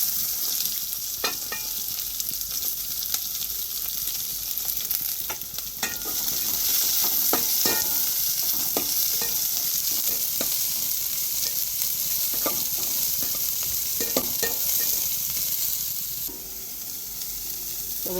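Onions and cumin seeds frying in hot oil in a home kitchen pan, a steady close sizzle with occasional stirring scrapes and crackles, no voices.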